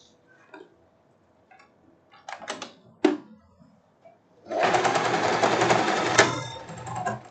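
A sewing machine stitches a silk blouse sleeve closed in a short, fast whirring run near the end, after a few scattered light clicks and taps of handling the fabric.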